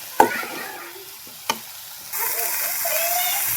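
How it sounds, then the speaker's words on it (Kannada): Grated vegetables fry in a pan with a soft, steady sizzle that swells louder in the second half, preceded by two sharp knocks of a utensil against the pan, close up and without speech. "ಈ ಥರ ಫ್ರೈ ಆಗ್ಯದ ನೋಡ್ರಿ"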